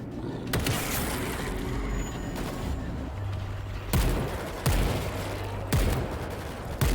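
Shotgun blasts fired at zombies in a video game, several loud separate booms spaced a second or so apart over a constant rumbling game background.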